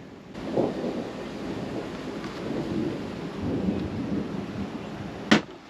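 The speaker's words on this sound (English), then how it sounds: "that thunder, it's crackling pretty bad" Thunder rumbles low and steady in the distance over Idaho's Sawtooth Mountains, with a sharper crack near the end, against a wash of rain-like background noise.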